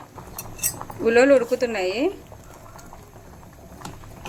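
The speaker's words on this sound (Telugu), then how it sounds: "ప్రస్తుతానికి ఉలవలు ఉడుకుతున్నాయి" Horse gram simmers in a pot for ulava charu, a soft bubbling and faint clinking, with a brief louder warbling sound in the middle.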